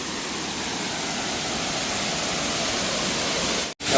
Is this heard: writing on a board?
no